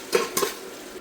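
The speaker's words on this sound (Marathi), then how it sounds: "त्यानंतर मी इथे टाकते कांदा. छान असा बारीक चॉप केला आणि परतवून घ्यायचा." Finely chopped onion tossed into hot oil with cumin, mustard seeds and curry leaves in a pan, with two quick clatters of a utensil against the pan over a soft sizzle.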